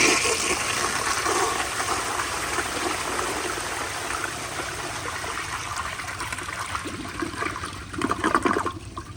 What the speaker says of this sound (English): I'm gonna turn the pressure all the way up, and I'll give y'all one more flush